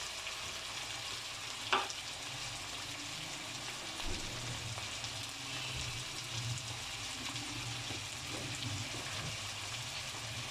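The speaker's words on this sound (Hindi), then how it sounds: "इसके अंदर मैं ये लार्ज साइज़ का जो टमाटर काटा था वो मैं डाल रही हूँ।" Chopped large tomatoes dropped into a pan of frying ginger, onion and spices for matar pulao: a soft, steady sizzle with a brief clatter early on and occasional stirring scrapes, no talk.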